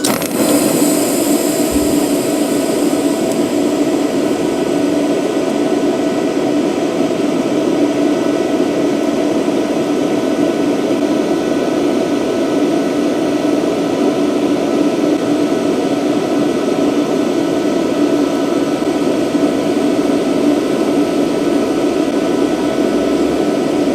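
Lap joint being TIG welded with a HITBOX HBT2000 welder, a loud, continuous steady hiss and hum with no talking over it.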